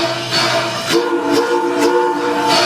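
A train's steam whistle sounds in a few loud, tonal blasts with clanking rail noise between them, close and clear with no talking.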